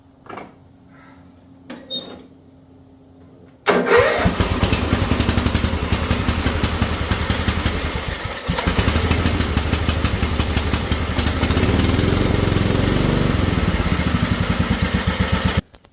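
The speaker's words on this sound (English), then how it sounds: "Now can we get a cold start? Let's see. Choke." A Yardman lawn mower engine cold-starts on choke after a few quiet clicks and pulls, then catches and runs loudly with an uneven, throbbing idle that briefly dips before steadying.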